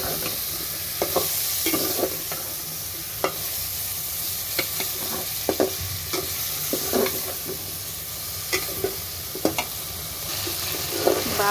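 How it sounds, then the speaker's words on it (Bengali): Brinjal and potatoes sauté in a pan with a loud continuous sizzle, punctuated by frequent clicking scrapes of a spatula stirring against the metal throughout. "ভালো করে নাড়াচ্ছে না, তারপর বেগুনগুলো দিয়ে দেব, দিয়ে দেব বেগুন আলু।"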